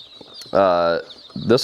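Pekin ducklings give loud, close peeping calls, with one sustained call followed by a shorter rising one.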